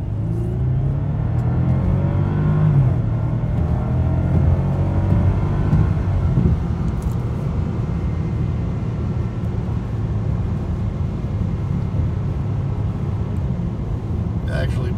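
A 2014 Bentley Flying Spur is driven hard down the road, its deep engine and road rumble loud and steady throughout, with the pitch rising slightly as it accelerates.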